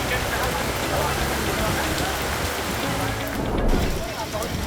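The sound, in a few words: rain falling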